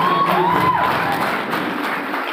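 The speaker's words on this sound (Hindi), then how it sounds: "जोर से एक बार फिर से आप इनके लिए ताली बजाएं" Audience at a physiotherapy college event breaking into sustained applause, a dense wash of clapping with a few cheers that stays loud and fades slightly toward the end.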